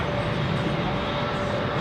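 Qatar Airways jet departing Heathrow for Basel and banking into a turn, a steady distant engine roar with broad rushing noise, heard throughout.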